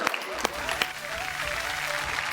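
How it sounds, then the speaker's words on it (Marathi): Audience applause at a women's television game show, a steady patter of clapping that stays fairly soft and continuous, with a voice talking over it. "चला एकदम जोरदार टाळ्या होऊन जाऊ दे."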